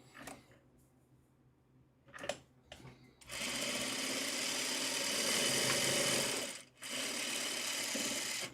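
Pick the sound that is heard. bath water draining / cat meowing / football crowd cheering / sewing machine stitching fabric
sewing machine stitching fabric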